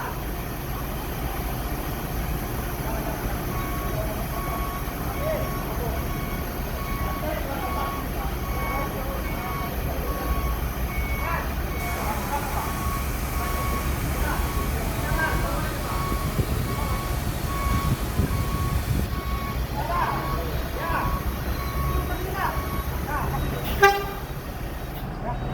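Long stretch of congested road traffic before New Year, with buses and trucks idling and engines droning, several horn toots and people talking nearby under the steady rumble.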